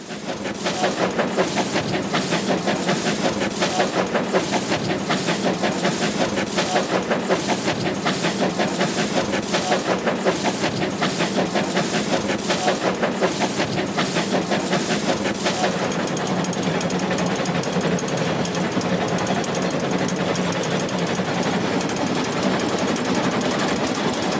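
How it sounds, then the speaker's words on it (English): An originally coal-fired steam locomotive labors up the final grade to Arthur's Pass, its exhaust beating in a loud, steady, rapid rhythm that runs unbroken with no voices. "the driver guides the train skillfully during the final slog up to Arthur's Pass"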